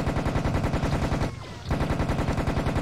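Rapid automatic fire from a Tommy gun in Serious Sam The Second Encounter HD, a steady loud burst of shots that breaks off for a brief gap near the middle and then resumes at the same pace.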